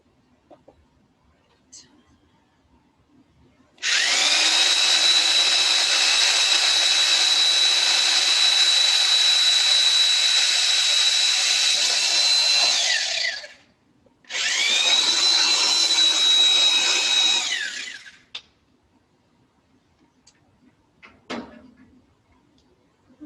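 A power drill with a fairly large bit whines steadily for about ten seconds drilling a hole for a self-watering plant container, stops briefly, then runs again for a few seconds; close and loud, with faint handling noises around it.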